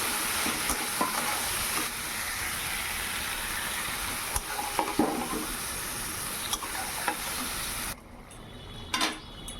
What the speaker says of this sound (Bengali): এখন সবজিটা দিয়ে আবার ভালো করে কষিয়ে নেব।